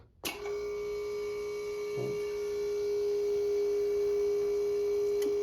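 A new compressor runs in a Robinair refrigerant recovery machine, a steady tonal hum that starts with a click and keeps droning evenly, close and fairly quiet with no voices.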